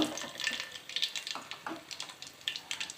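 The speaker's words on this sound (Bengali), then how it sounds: "এই যে বেঁচে যাওয়া তেলে এখন এই যে আলুগুলোকে দিয়ে দিচ্ছি" Potatoes for homemade french fries frying in leftover oil, giving a steady soft sizzle with scattered crackles and small spits and pops throughout, close up and fairly quiet.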